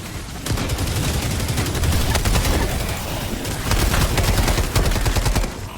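Weapons fire in the video game Helldivers 2 rattles in loud, rapid bursts of close gunfire, with sustained volleys and short pauses between them.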